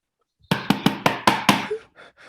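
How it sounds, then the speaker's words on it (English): Six sharp knocks in quick succession sound on a door or wooden surface during a theatre rehearsal of Macbeth, loud and close in a quiet room, followed by a faint trailing sound. "Wait, Duncan, with thy knocking!"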